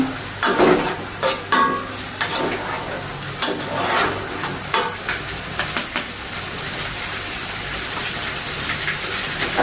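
Salted squid sizzles and spatters in a hot pan, a steady hiss broken by sharp clattering stirs and scrapes of the utensil near the start, close and fairly loud.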